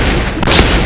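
A grenade blast in the shooter game Point Blank, a single loud, short boom and burst of noise mid-clip amid continuous game sound, with no talking.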